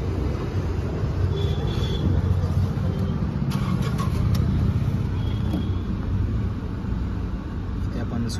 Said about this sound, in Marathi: गाडी पेट्रोलवरती स्टार्ट झालेली आहे.